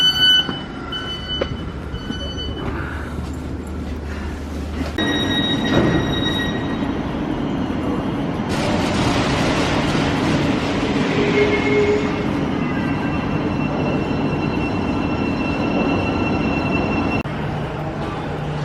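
A Eurostar train to Paris at a station, with mechanical rumble, rail hum and high tonal whines building and sustained, alongside shifting station noise and short tonal chimes.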